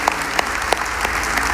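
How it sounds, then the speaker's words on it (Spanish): A church congregation claps together in a dense, steady round of applause, with a few sharper claps standing out at intervals and no talk over it. "le damos un fuerte aplauso al Señor"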